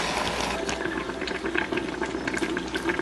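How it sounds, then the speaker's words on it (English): Cameroonian eru/okazi broth with snail, red meat, crayfish and smoked fish boiling in a pot, a steady, dense bubbling and simmering texture throughout with no talking. "The snail, the red meat, crayfish and smoked fish has been boiling for 10 minutes."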